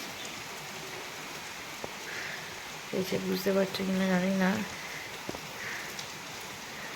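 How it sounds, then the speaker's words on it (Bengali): Steady rain falls outside in the morning after a night of downpour, a continuous soft hiss that stays even throughout, while a person speaks briefly over it. "সারা রাত ধরে বৃষ্টি হচ্ছিল, এখনও বৃষ্টি হয়ে যাচ্ছে"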